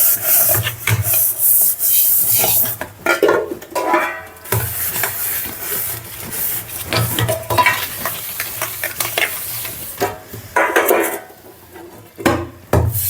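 Scrubbing and rubbing on a blackened kadai pan, close and continuous, with rhythmic abrasive scraping strokes, metallic clinks and brief pauses throughout.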